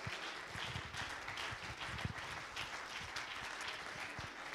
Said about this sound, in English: Come on, clap your hands again.